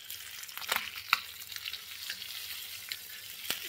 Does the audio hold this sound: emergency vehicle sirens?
no